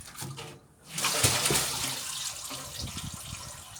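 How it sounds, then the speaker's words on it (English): Water pours steadily into the drum of an Indesit washing machine, a continuous rushing splash that swells after a brief lull and carries on without talk. "there's loads of water in here"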